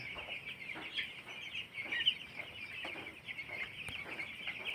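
Broiler chickens on a poultry farm, many birds clucking and chirping together in a continuous flock chatter with repeated short calls, moderately close and steady throughout.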